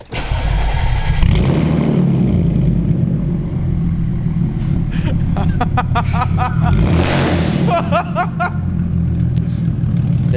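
A car engine idles loudly and steadily, with revs rising and falling throughout and a brief higher whine near the end.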